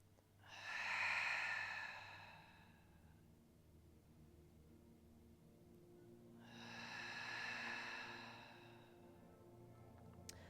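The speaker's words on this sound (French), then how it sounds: "on inspire dans les côtes et on expire, on serre sa ceinture intérieure" Two slow, deep breaths, each a long airy exhale lasting a couple of seconds, taken during a Pilates exercise; close and soft in a quiet room, separated by a pause.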